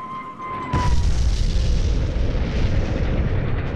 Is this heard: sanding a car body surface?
no